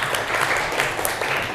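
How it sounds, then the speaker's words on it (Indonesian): A classroom of students claps together in a short burst of dense, close applause lasting under two seconds. "tepuk tangan."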